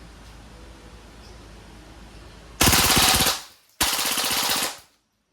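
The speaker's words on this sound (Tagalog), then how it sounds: "Okay, full auto. Firing!" A Crosman AK1 CO2 airgun fires steel balls on full auto in two loud, rapid rattling bursts, each about a second long, with a short gap between them.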